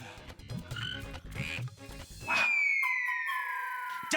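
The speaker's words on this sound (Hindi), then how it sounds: "टर्र टर्र टर्र टर्र टर्र टर्र।" A cartoon frog croaks in a rapid series of clipped ribbits, followed by a long falling whistle-like tone that sweeps downward and sustains loudly to the end.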